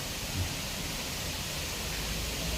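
Rain falls in a steady, dense hiss, an unbroken wash of sound throughout with no breaks or talking.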